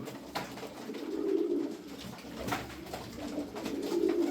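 Arabian fancy pigeons in a coop give soft, low, rolling coos in repeated phrases, close by and fairly quiet, with faint flutters and shuffles in between.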